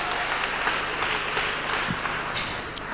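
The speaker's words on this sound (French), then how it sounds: "Say amen and clap to God." A church congregation claps and cheers during a sermon, a dense, steady wash of many hands applauding together throughout, filling the room with no speech over it.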